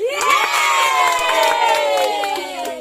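A crowd of children shouts and cheers loudly and continuously at a party game, with a dense, excited roar of voices sustained throughout.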